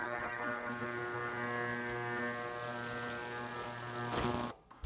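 An ultrasonic cleaner's steady electric hum with a harmonic buzz drones continuously, then cuts off abruptly near the end.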